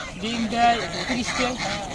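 Royal ducks, a goose breed, on a home duck farm. A few loud, close honking calls come in quick, uneven succession.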